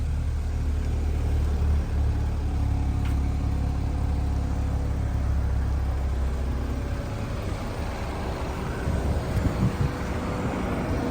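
A 2016 BMW 228 convertible's engine runs at a steady idle close by, a continuous low rumble with no voices over it.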